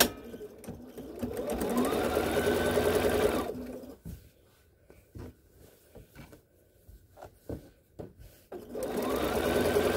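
A sewing machine topstitches a shirt sleeve seam with a long stitch length, for a McCall's 6044 shirt. Two steady runs of fast stitching bracket a quieter pause filled with scattered handling clicks and taps.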